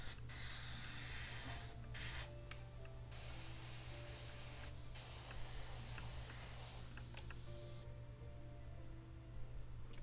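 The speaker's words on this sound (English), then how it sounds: "Green will be sprayed over to create the pattern." An airbrush sprays green paint over a putty mask on a scale model in bursts of close, steady hissing, separated by brief pauses with a low constant hum underneath.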